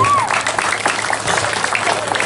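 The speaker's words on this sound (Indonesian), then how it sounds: "Tepuk tangan teman untuk penabuh doi." Audience applause for a drummer at a Balinese comedy show, a busy crowd sound with clapping mixed under a loud voice and background noise.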